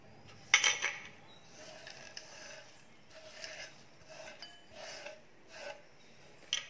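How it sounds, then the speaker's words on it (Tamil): Raw ingredients, including salt, pepper, chopped coriander leaves and finely chopped almonds, are stirred together in a bowl, giving soft repeated scraping and clinking of a utensil against the dish, quiet and close. "எல்லாத்தையும் சேர்ந்து கலந்துடலாங்க."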